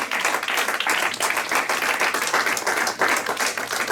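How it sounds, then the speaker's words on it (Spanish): A church congregation applauds during a sermon: steady, fairly loud clapping from many hands throughout, with no talk over it. "Denle un aplauso,"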